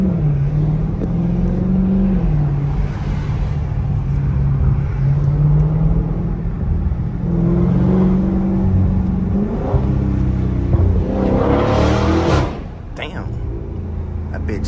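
A 2023 Dodge Challenger Scat Pack with a freshly broken-in engine at 7,000 miles, its engine droning and rising under acceleration heard from inside the car, a loud surge near the end, with someone talking over it.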